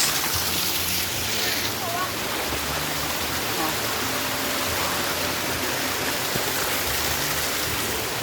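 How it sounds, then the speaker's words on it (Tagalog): A small mountain waterfall pours in a steady, dense rush of water, heard close and loud without a break throughout. "falls mini falls hmm, mini falls"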